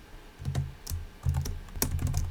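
Typing on a computer keyboard while entering an Excel formula: several bursts of close, crisp key clicks in an uneven rhythm, with no talking.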